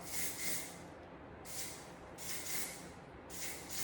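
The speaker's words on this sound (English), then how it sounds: "this is where you can also come in with the volumizing spray, kind of as like a hairspray" Four short, soft hissing bursts from an aerosol can of volumizing hairspray, spaced about a second apart, fairly quiet and close.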